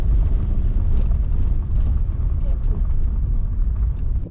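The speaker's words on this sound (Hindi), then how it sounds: "हवा चल रही है बहुत ज़्यादा।" Strong wind at Gue monastery in Spiti roars steadily into the microphone, a loud low rumble with gusty buffeting throughout, while someone talks over it.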